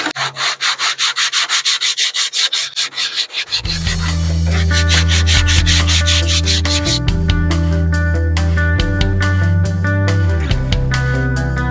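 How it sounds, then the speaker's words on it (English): Carburetor mounting plates for a Weber carburetor install on a Mazda B2000 are sanded with quick, rhythmic rubbing strokes. A loud, steady droning grind then takes over, with the scraping strokes still pulsing through it up close. "we got our plates all sanded"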